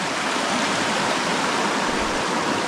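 The Svicha river in the Carpathian mountains rushes loudly and continuously close by, a dense, unbroken roar of flowing water with no voices.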